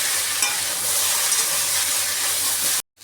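Green chillies stirred and frying in a pan at home, a steady close sizzle and hiss with light scraping of stirring, no talk, ending abruptly.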